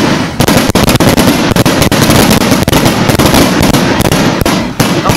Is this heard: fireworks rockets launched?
yes